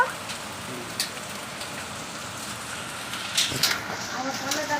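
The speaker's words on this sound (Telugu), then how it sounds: "మళ్ళీ స్టార్ట్ అయింది వర్షం" Rain mixed with hailstones falling steadily, a dense continuous patter on surfaces with occasional sharper louder impacts toward the end, recorded close by.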